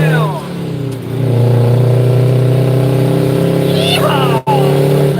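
A diesel truck rolling coal accelerates hard on the road, its engine note climbing loudly and steadily with rising harmonics while someone talks over it.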